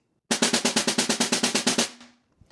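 An uneven concert snare buzz roll, about fourteen distinct pulsing surges of buzzing strokes in a wavering rhythm rather than a smooth sustain. It sounds close and loud, then rings off into quiet.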